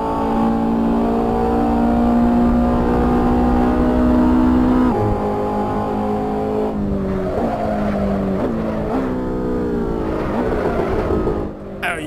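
A Ferrari 488 GTB with a seven-speed gearbox is driven in the Assetto Corsa racing game, its engine holding a loud steady high-revving drone, then dropping and climbing through quick downshifts and revs with brief tyre squeal near the end.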